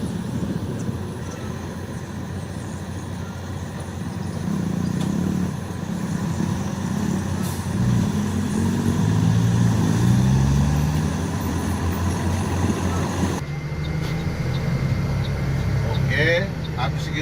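A Mercedes-Benz Axor 2528 truck releases its parking brake and pulls away, its low diesel rumble steady and close, swelling as it moves off, with someone talking over it.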